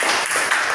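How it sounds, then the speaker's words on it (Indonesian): Students clapping in a high school mathematics classroom, a brief, dense burst of applause from a group of hands close by. "kasih tepuk tangan untuk sekarang"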